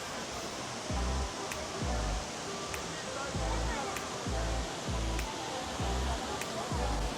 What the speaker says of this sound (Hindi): पानी ही पानी है